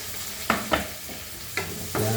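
Tomatoes go into a pan with garlic for sautéed cauliflower and cabbage, giving a soft sizzle broken by several quick spoon scrapes and taps.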